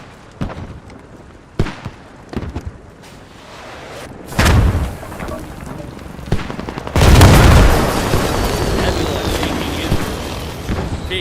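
A TOW missile emplacement fires in the tactical shooter Squad, with a sudden heavy boom and a long rumbling roar after earlier scattered distant blasts and gunfire.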